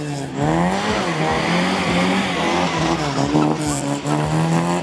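Tires squeal loudly and continuously as a Mini spins round in a reverse handbrake turn with the engine revving hard, close by throughout, at a Mini show at the British Motor Museum.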